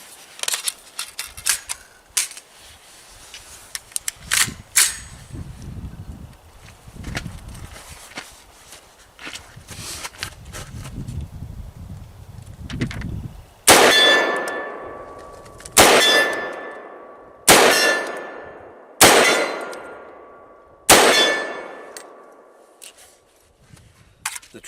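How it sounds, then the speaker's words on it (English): Big bore black rifle shots ring off a steel target: faint scattered clicks and handling noises at first, then five loud, evenly spaced metallic clangs, each with a long bright ringing decay. "let's see if I can hit the steel"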